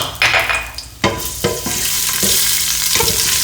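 Garlic and rosemary drop into hot vegetable oil in a wok or large pan, bursting into a loud steady sizzle after a few sharp clatters of stirring, with the hiss holding continuously to the end.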